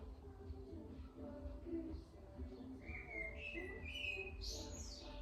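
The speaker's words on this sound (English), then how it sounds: "Can really hear the blackbirds." Blackbirds sing and whistle in short rising phrases, moderately distant, over a low steady background hum.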